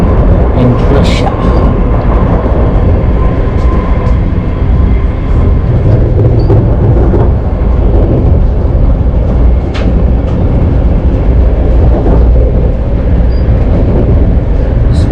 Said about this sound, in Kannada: high speed train